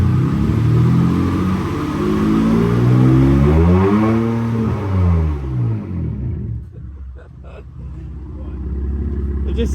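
A BMW F80 M3 engine, mid DCT relearn, revs in a long, slow climb and fall of pitch. The sound is close and loud, then settles back to a rumbling idle.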